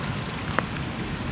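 Steady rain falls outdoors in hot summer weather in Mirpurkhas, a dense even hiss throughout with one brief sharp drip or tap near the middle.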